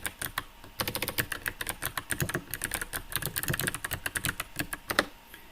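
Fast typing on a computer keyboard, close and moderately loud, with irregular bursts of sharp key clicks and brief pauses and no voices.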